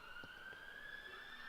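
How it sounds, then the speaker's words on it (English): A steady, faint emergency vehicle siren tone holds throughout near Trent Bridge cricket ground, distant and unbroken over low background hum. "almost a constant sound of sirens around Trent Bridge at the moment"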